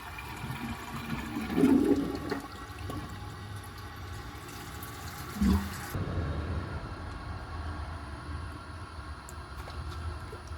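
Water rushes and gurgles with a surge partway through, then a quieter swirling drain as a 1960 Crane Oxford toilet flushes a dish towel.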